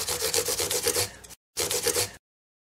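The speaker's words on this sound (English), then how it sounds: "now we're just going to polish them up with this 600 grit sandpaper" Fine 600 grit sandpaper polishing the frets of a mandolin, a quick rhythmic back-and-forth rubbing in two close bursts separated by a brief pause, then silence.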